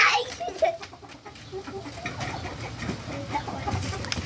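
Chickens cluck softly in short scattered calls amid rustling handling noise, with people talking nearby.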